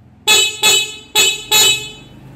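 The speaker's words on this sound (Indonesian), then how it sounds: "dan klakson." Four loud, short horn beeps from a Honda CB100 motorcycle with a 200cc engine in quick succession, close by, in an uneven two-and-two rhythm.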